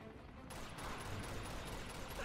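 Rapid bursts of gunfire from the video game Uncharted: The Nathan Drake Collection, a dense fusillade heard at a distance behind a steady background roar, with no talking.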